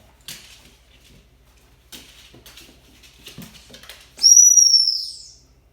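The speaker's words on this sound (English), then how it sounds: "I'll blow the whistle so you guys can sort of understand" After a few quiet taps, one sharp, high-pitched dog training whistle blast sounds close by, rising slightly in pitch, then fading after about a second.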